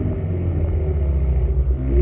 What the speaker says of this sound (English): you can put it into the sport exhaust mode, which gives you a little more throatiness.